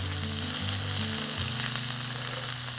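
Onions and peppers sizzle on a Weber griddle set right over hot coals, a steady close frying hiss with low crackle that holds evenly for a few seconds with no talking.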